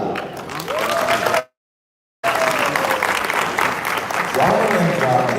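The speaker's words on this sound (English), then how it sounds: "let's give a big round of applause" An audience at an Asia-Pacific speaking competition breaks into dense, steady applause that fills the room, cut by a brief moment of silence before the clapping resumes at full strength.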